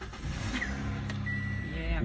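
Idling engine of a manual-transmission car during a driving lesson, a steady low rumble close by with a faint whine, while people talk over it inside the car.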